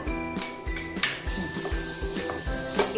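Chopped garlic sizzling in hot oil in a pot while making sweet corn soup, a steady close crackle with a few sharp clinks of a spoon against the pan, no talking.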